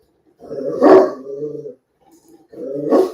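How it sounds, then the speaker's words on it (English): A dog barks in the background of a kitchen where beef tenderloin is being trimmed, two loud, close bursts of barking and growly yips separated by a short pause. "Sorry about my dog in the background,"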